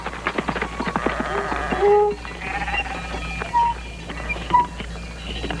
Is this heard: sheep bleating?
yes